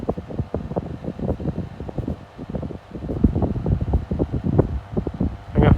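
A 12-inch desk fan, a 1993 Astor model, runs on medium with a steady whir and rapid, uneven rattling ticks close by, with no talking.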